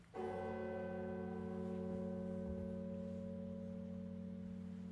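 A single deep church bell strike rings out and hums with a long, sustained resonant tone that slowly fades.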